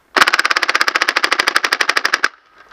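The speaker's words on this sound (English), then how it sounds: "They don't make air-powered Nerf blasters anymore, which means this kind of rate of fire now requires batteries." An air-powered 1990s Nerf Wildfire blaster firing foam darts on full auto, a rapid even burst of about twenty sharp pneumatic shots lasting around two seconds, loud and close, then a faint trailing hiss.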